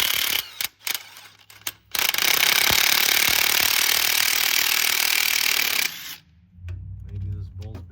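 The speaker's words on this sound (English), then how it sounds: "we're going to take off those two bolts" Starter bolts come off a Jeep Wrangler JK with a power tool: a few short bursts, then a loud, sustained rattling hammer for about four seconds that stops abruptly, with a low hum and voices after.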